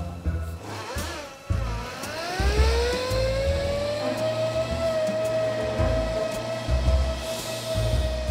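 A Suzuki Jimny climbing a steep hill, engine droning and rising in pitch as it pulls under load, close and steady, with rumbling knocks from the terrain.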